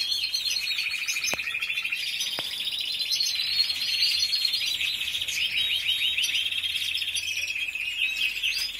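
Pet birds eating lettuce chirp and tweet continuously in a dense, high-pitched chorus, close and fairly loud, with two brief sharp clicks early on.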